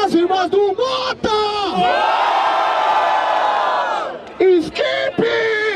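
A loud crowd at a rap battle in Barueri roars and cheers in a sustained swell, with an MC's amplified shouts breaking in before and after, close and energetic.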